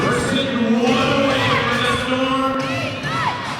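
A basketball crowd roars and cheers continuously after a play, a loud, sustained wash of voices with whoops rising above it.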